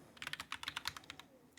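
Someone types text on a computer keyboard in a quick, uneven burst of about a dozen close, clicky keystrokes. A short pause follows, then another tap.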